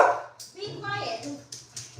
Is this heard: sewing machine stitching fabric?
no